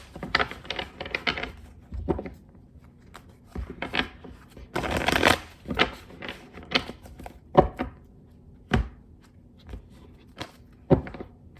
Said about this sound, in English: when I was shuffling, I did see the Lover's card when I split the deck